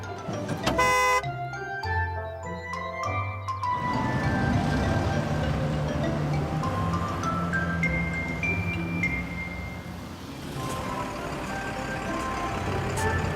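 A cartoon fire truck pulls away and carries on down the road, honking its horn over a bright musical score, with beeping tones and steady vehicle noise filling the passage.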